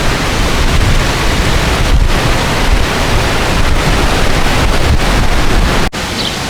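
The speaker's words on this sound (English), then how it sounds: "It is windy and it might be raining." Strong wind buffets the microphone on the Lake Michigan shore at Holland State Park, a loud continuous roar with brief gusty dips and a sharp dropout near the end.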